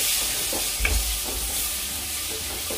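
Onion and chopped tomato masala fries in a pan, giving a loud, steady sizzle throughout with a few soft stirring scrapes.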